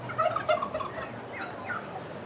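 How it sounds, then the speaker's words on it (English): Turkey breeders on a farm gobble in a few quick rattling bursts, moderately near over a low outdoor background, with a second fainter gobble following. "Are these the turkeys for Thanksgiving?"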